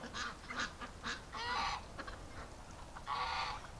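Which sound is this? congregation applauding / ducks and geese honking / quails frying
ducks and geese honking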